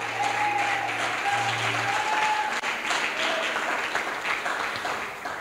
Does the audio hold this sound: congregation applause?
yes